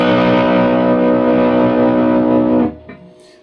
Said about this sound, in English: you increase your volume for more distortion for the main riff of the song